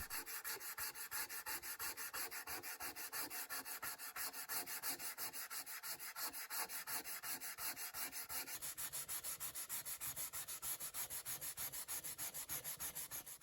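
Sandpaper rubs back and forth on the veneer of a 1963 Epiphone Professional guitar body in steady, rhythmic strokes, close up and continuous, the tone growing finer as grits progress from coarse to very fine.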